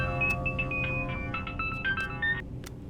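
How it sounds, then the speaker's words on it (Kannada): A mobile phone ringtone plays a bright electronic melody of short rising and falling notes, moderately loud and close, in a scene from a Kannada crime thriller film. "ಲೇ, ಫೋನ್ ಎತ್ತೋ."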